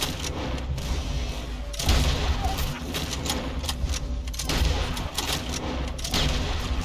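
Repeated gunshots fired at a snake in Red Dead Redemption 2, sharp bursts scattered across a dense, busy game soundscape with overlapping booms.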